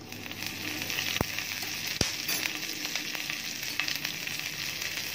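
Cumin seeds and chopped green chili sizzle steadily in hot oil while a breakfast dish is cooked, giving a continuous close frying hiss with a couple of sharp clicks and small pops, no voices.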